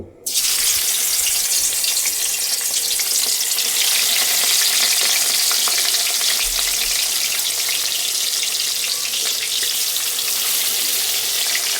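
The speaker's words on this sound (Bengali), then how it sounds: "এইবার মাছগুলোকে এক এক করে ভেজে নেব।" Loud, steady sizzling and crackling of fish frying in hot oil, a continuous hiss that starts abruptly and runs throughout.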